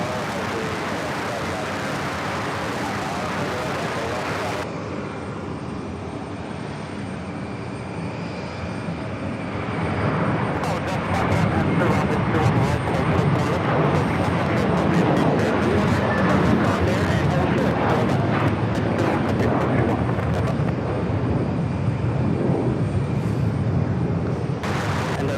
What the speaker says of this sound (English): Next takeoff is heading to LAX. It's the A321T with American.